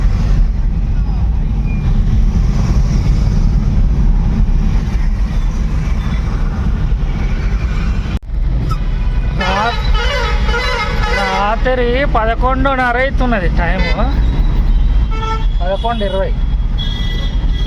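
Dense city road traffic at night: a steady roar of engines with someone speaking over it, followed by repeated horn toots and honks from the jammed vehicles around.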